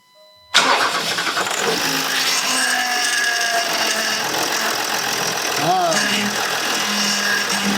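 A Land Rover engine starts suddenly and keeps running at a steady idle nearby during a power steering fluid flush, with voices speaking over it.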